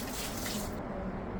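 A FLUENTPOWER 1/2 HP submersible sump pump draws in water with a steady, close rushing and gurgling wash that runs throughout, its bright hiss dropping away partway through.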